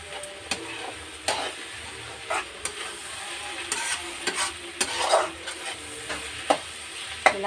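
A spoon stirs chili powder into onions frying in a pan for an egg and cashew curry, with repeated scraping taps over a soft steady sizzle, close up.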